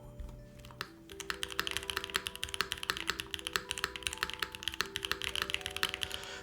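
Fast, steady typing on a Mode Sonnet mechanical keyboard produces a dense run of close, clacky keystrokes, with a faint tonal hum underneath.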